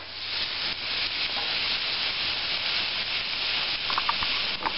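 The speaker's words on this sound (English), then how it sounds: "I got my vegetables sauteed here" Carrots, cabbage, celery and leeks sautéing in a pan for a pork stew: a steady, even sizzle hisses on throughout without a break, with a few faint crackles toward the end.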